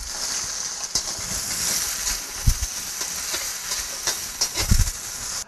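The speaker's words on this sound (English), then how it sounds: "you want to add the chopped onions" Broad steady sizzle of chopped onions hitting hot oil with whole cloves frying in a pan, a continuous hiss with a few soft clunks and stirring bumps, no voices.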